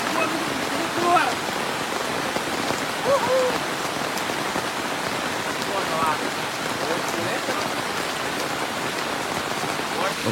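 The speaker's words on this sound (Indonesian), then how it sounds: "ini sekarang masih hujan lebat" Heavy rain pours steadily on a forest camp beside a river, a dense continuous hiss of drops drumming on surfaces with running water beneath, loud and close throughout with faint voices now and then.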